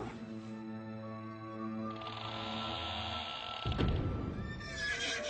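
An overheated, hard-ridden horse whinnies loudly and at length, followed by a snort and a brief clatter of hooves close by.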